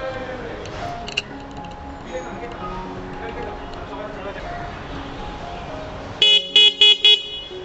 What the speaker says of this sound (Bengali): এ হচ্ছে আমার সাইকেলের পুরানো হর্নটা